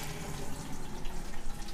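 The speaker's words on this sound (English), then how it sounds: "I scoop up whey and curds" Whey and curds being ladled from a kitchen pot into a colander give a soft, continuous pouring and splashing of liquid, fairly quiet and close.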